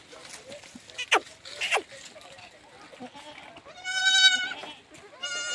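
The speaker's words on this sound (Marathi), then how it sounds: "त्यामधली ही शेळी जी वांडी आहे आपण सर्वात अगोदर घेतलेली" A goat bleats twice near the end, a wavering nasal cry, after some rustling and quiet murmuring voices.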